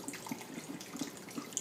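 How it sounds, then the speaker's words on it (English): Beef broth pours into a pot of shredded beef (ropa vieja), a short, faint liquid splash and trickle with no talking. "now I'm about to add some more beef broth to it just to give it a little more flavor"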